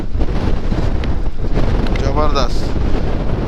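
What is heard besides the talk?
strong wind at Lonavala during bike ride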